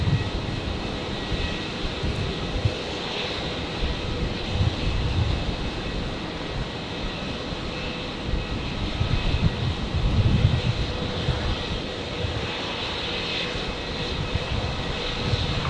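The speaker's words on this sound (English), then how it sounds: "Looks like the Emirates 777 is turning onto final now" Emirates Boeing 777 jet turning onto final approach at night at Brisbane International Airport, a steady, broad engine roar with wind noise, swelling slightly midway and holding continuously throughout.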